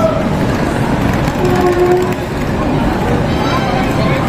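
The Nandan Kanan Express pulling out of Prayagraj station, a loud, close, continuous rumble of rolling coaches with a brief tonal horn-like note partway through, the whole roar steady and dense throughout.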